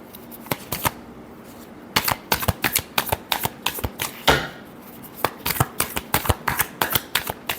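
Tarot cards riffled and shuffled by hand in quick, irregular bursts of crisp snapping flutters, close and fairly loud, with a brief pause before the shuffling resumes.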